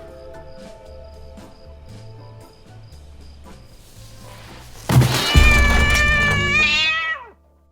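A person imitates a cat with one loud, drawn-out meow that rises and then trails off, following several seconds of quieter background sound.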